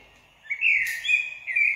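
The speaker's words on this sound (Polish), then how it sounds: "To jest kos!" A blackbird sings two short, clear whistled phrases, fairly loud and close, with quiet gaps and no other sounds around them.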